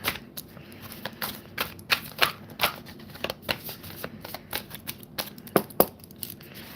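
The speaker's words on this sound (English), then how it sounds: "shuffle and see what falls out." Tarot cards being shuffled by hand, a steady run of crisp riffling flicks and soft slaps at close range, alone without any talk.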